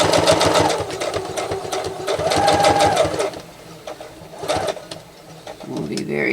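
A sewing machine stitching a lined tablet bag with lace: a steady, fast mechanical whirring and clatter in several bursts, with short pauses between them, and a person talking at the same time.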